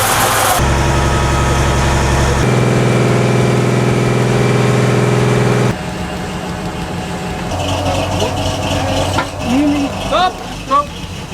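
A rebuilt 15.8-liter V6 diesel engine in a BMP (VPV1) armored vehicle runs on a beach with a loud, steady, deep drone that shifts pitch partway through as the revs change, while voices are faintly audible in the background.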